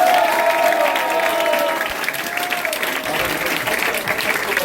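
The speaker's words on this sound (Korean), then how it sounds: "큰 박수 한번 부탁드립니다." An audience at a party committee launch event claps loudly and continuously, dense applause with some crowd noise, fading slightly toward the end.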